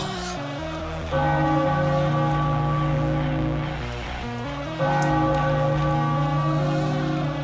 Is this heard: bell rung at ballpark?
yes